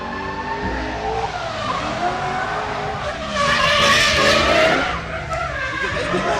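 A drift car spins its tires at a drift series event, a loud, sustained engine roar under harsh tire squeal and skidding that swells to a peak midway, then settles, with crowd ambience behind.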